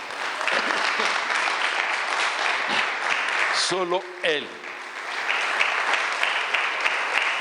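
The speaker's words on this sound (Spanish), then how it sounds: "Bueno, denle el aplauso a Él." Church congregation applauding during a sermon, a steady, full round of clapping; someone briefly speaks over it in the middle before the applause carries on.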